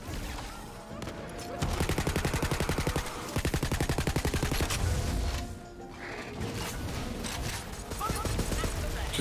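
Enemy rifle fire in the fantasy shooter game Tiny Tina's Wonderlands, a long run of rapid, evenly spaced shots lasting several seconds, then a short pause and more bursts, with voices talking over the gunfire.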